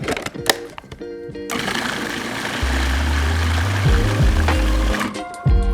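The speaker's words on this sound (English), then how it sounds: "Now we're gonna pulse it all together." A food processor pulses spinach dip ingredients with mustard, oregano, onion powder and parsley, giving a loud, close motor whir in short bursts between quieter gaps, with no talking.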